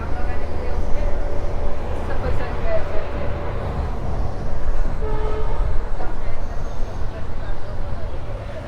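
A local train running from Gurugram to Delhi Junction, heard from inside as a steady loud rumble of wheels and carriage noise with brief tonal squeals, continuous throughout with a voice talking over it.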